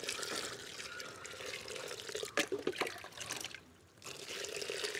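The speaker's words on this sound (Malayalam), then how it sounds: "നമുക്ക് ഇതിൻ്റെ ഒരു മുക്കാൽ ഭാഗത്തോളം നമുക്ക് വെള്ളം ഒഴിച്ചു കൊടുക്കാം." Water is poured into a container to soak oil-cake plant fertilizer, making a steady splashing rush up close. It briefly turns uneven and gurgly partway through, stops for a moment, then resumes.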